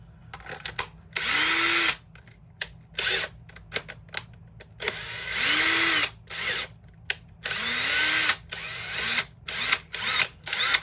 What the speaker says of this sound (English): The drill,